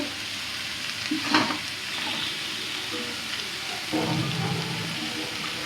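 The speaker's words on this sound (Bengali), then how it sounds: "একটু জল দিচ্ছি অল্প" Water poured into a sizzling fish head and bottle gourd curry, a steady pan hiss with a couple of splashy bursts and stirring scrapes, close by.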